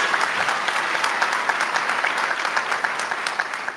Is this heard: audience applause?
yes